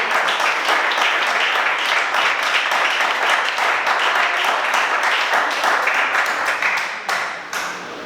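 A church congregation applauds, dense and loud clapping from many hands close by, sustained and even before thinning slightly near the end.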